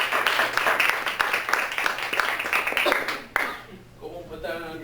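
People at a school board meeting give a round of applause for the board members, brisk, close claps that run for a few seconds before stopping abruptly, with talk following afterward.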